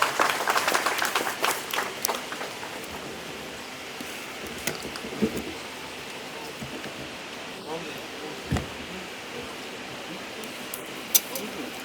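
Applause from the audience at a government pilot launch event, starting as a brisk burst of clapping that quickly thins to scattered claps and faint murmuring.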